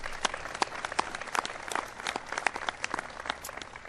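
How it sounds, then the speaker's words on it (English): Faint applause from an audience at a ceremony honouring a police official at the 2012 Top Cops event: a scattered patter of many hands clapping at a distance, without voices. "Give Gil a big round of applause."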